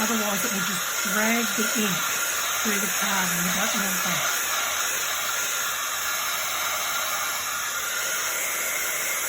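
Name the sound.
heat gun drying stamped ink on card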